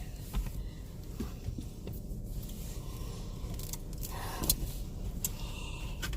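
Steady road and engine rumble from a car on a drive through East Central Indiana, with faint rattles and clicks inside the cabin and no talking.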